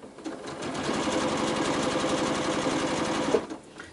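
A sewing machine runs continuously at a steady, fast stitching pace while a quilt block is fed through, the whirring motor close and moderately loud, starting up and winding down at the ends.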